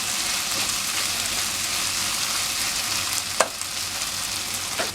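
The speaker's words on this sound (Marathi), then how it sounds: "बटाटा व्यवस्थित परतून घ्यायचा आपल्याला, आपला खरपूस झाला पाहिजे" Diced potatoes for Shimla batata bhaji fry and get stirred in hot oil, a dense, even sizzle throughout with a couple of scraping clinks of the spatula near the end.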